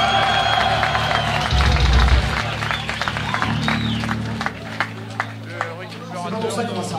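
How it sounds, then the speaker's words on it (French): An audience at a live concert in Clermont-Ferrand claps and cheers as a loud, dense wash of applause with crowd noise, under a voice talking near the start. "On peut l'applaudir bien fort."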